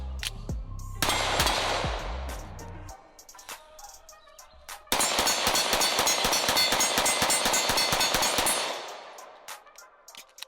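Rapid bursts of fire from a CMMG Banshee firearm, a loud close string of shots, a pause with a few scattered reports, then a long sustained volley of closely spaced shots that cuts off.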